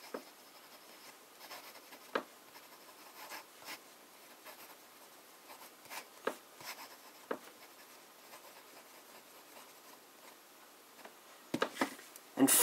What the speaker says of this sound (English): maybe we should do some regular writing. I'll write something about Lindauer